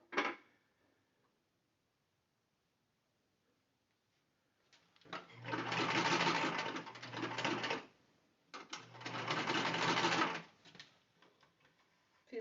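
A sewing machine backstitches the seam of a car trash bag in two fast, buzzing runs of a few seconds each, close and clear, with a brief click at the start and quiet gaps between.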